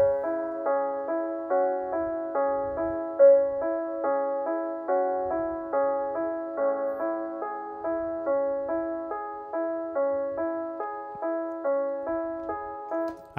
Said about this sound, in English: let's start with a Keyscape piano, cinematic, and you know, I just laid down a simple piano progression